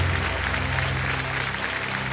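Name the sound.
audience applause on a TV quiz show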